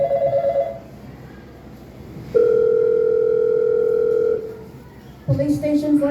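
A telephone tone sounds steadily for about two seconds between brief voices, then cuts off as a voice returns.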